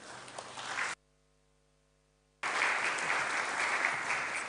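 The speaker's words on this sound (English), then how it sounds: "let us welcome the chairman with a round of applause" A lecture audience in Ghana applauds to welcome the chairman. Clapping starts, breaks off into a short silent gap, then returns fuller and steady.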